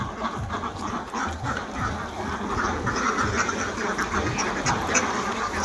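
Ducks quack in a busy, continuous chorus on a duck farm, overlapping calls rising and falling close by with no talking.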